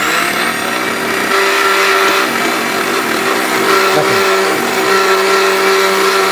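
A Veronica electric blender runs steadily and loudly up close, its motor giving a continuous whining drone with a slight change in pitch partway through and no talk over it.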